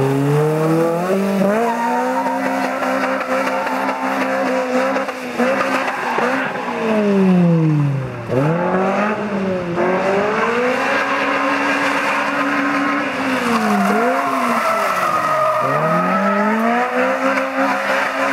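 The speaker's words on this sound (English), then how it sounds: "So he's revving it up. That's a heaps noisy on limit though." A Spyder engine held on the rev limiter at a friend's farm, a loud, buzzing wail that climbs and drops again and again in repeated sweeps, close by and running continuously with no talk over it.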